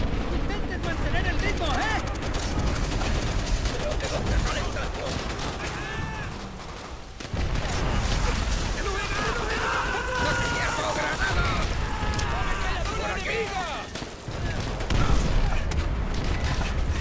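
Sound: enemy machine gun fire in the video game Call of Duty: World at War

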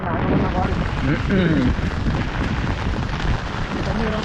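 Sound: strong wind

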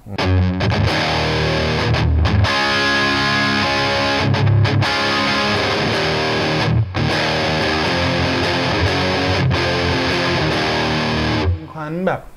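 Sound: electric guitar through distorted amplifier

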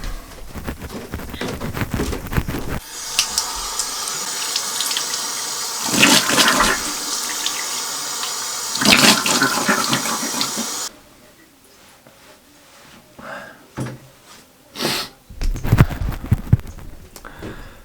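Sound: water running from sink tap while washing face

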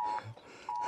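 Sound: phone emergency alert beep, nationwide warning day test

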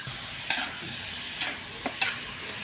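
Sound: stir-frying chicken with glass noodles in a pan

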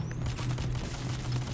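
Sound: gunfire in the video game Payday: The Heist

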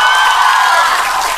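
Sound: audience applause for a performer

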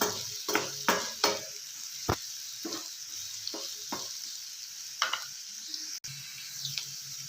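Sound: chopped onions frying and being stirred in a pan

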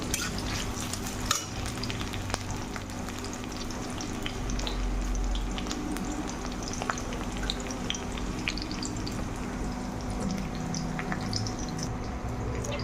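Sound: onion frying with green chili and garlic

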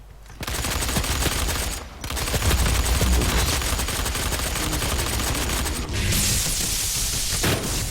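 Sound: gunfire from a new weapon in DOOM multiplayer video game

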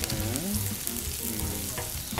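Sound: garlic sautéing in pan for paella

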